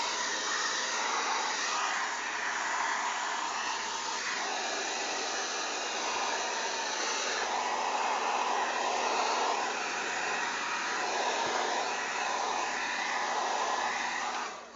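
A hair dryer fitted with a diffuser runs steadily and close by while drying natural curly hair, a continuous airy whoosh that holds an even level throughout and cuts off at the very end.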